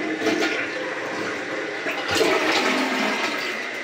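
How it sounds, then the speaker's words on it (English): A hotel room toilet flushing up close, a loud steady rush of water that swells partway through and continues to the end, with no voices. "Okay, give it one more flush."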